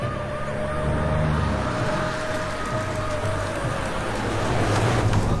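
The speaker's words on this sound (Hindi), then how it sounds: "चारों तरफ सायरन की आवाज गूंज रही है" Police sirens wail from several vehicles arriving outside a bungalow in a cartoon story, a continuous layered siren over engine rumble throughout.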